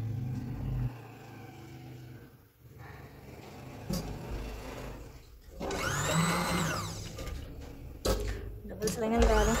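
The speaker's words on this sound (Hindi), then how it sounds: "यहाँ अब हम लोग सीधी सिलाई लगा देते हैं।" A sewing machine runs a straight seam on a cloth cover for a Quran, its motor whirring in a few bursts of rising and falling pitch, mixed with talk and some handling noise.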